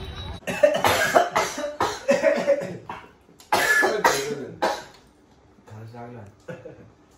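Several people cough deliberately in a string of loud, close coughs and throat sounds, mixed with laughter and speech, while out at a closed shop before eating bharit.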